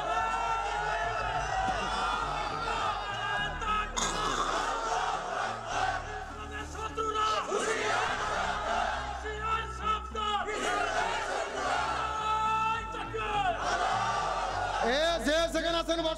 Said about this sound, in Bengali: দেখি তাকবীর দেন তো দেখি।